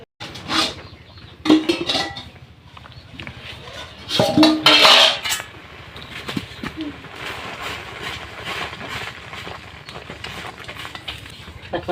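A metal lid clanks onto a cooking pot of thin red lentil dal in a village kitchen, a few sharp clinks and scrapes standing out over low background noise, with faint voices nearby.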